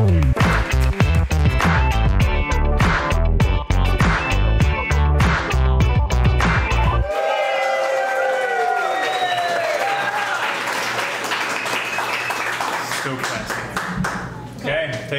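A crowd at a ribbon cutting claps and cheers loudly with dense, sustained applause. It cuts to a lighter, airier mix of cheering and voices partway through.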